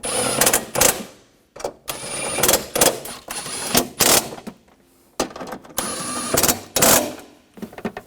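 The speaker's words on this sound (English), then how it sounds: "Put the nuts on, and we'll tighten these down" Bolts and nuts are tightened down on the battery brackets of a 2000-2006 BMW X5 with a ratchet. Repeated close bursts of rapid clicking are separated by short pauses, with no talking.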